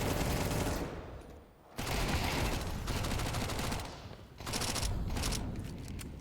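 Rapid MAC-10 submachine gun bursts in Counter-Strike 2, a pro Team Liquid vs B8 match at the StarLadder Budapest Major 2025, loud dense automatic fire in several long strings broken by short pauses, with no talk over it.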